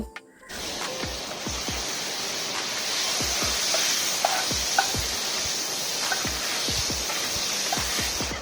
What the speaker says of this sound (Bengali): পেঁয়াজটা ভালোভাবে ভেজে নিয়ে এরপর দিয়ে দিল কিছুটা কুচনো টমেটো